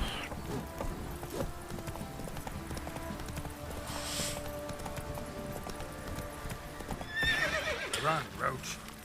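In a video game, a horse gallops with steady clip-clop hoofbeats under a constant backdrop of game sound and occasional talk, then neighs clearly near the end.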